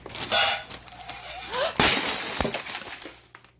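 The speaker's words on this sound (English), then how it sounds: "Broken plate, culprit on the counter." A ceramic plate falls onto a counter and smashes, a sharp crash followed by scattering shards and clinking fragments, close and loud with no speech.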